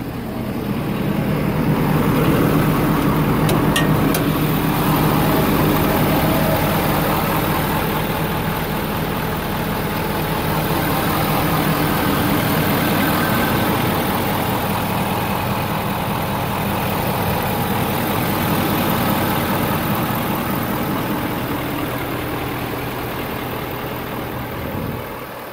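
A 2015 Terradyne Gurkha armored vehicle's standard Ford 6.7 liter diesel engine idles with a steady, low, rumbling drone that holds evenly throughout, with no voices over it.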